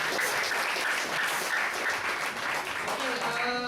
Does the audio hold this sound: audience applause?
yes